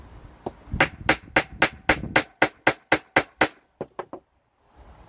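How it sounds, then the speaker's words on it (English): A small ball peen hammer taps the rivet of a pair of loose scissors, giving a quick run of about fourteen sharp, bright metallic clinks at a steady rhythm, close up, then a short pause and a fainter tap or two. "take our ball peen hammer, a little one's good for this job"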